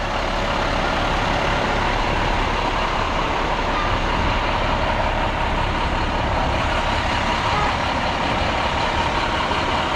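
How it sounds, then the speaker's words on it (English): Several big trucks, including a snow plow, rumble steadily at a touch-a-truck event, a continuous loud low engine drone with no breaks and faint talk in the background. "Those are big old trucks,"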